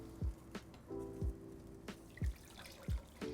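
Soaked molokhia leaves being drained of their water in a kitchen: steady, evenly spaced drips and small splashes, quiet and close, with a faint background hum.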